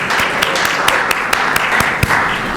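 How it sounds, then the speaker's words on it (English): A conference audience in Fort Lauderdale applauds, many hands clapping in a dense, steady patter with a few louder individual claps standing out, sustained throughout. "and you could all applaud for yourselves."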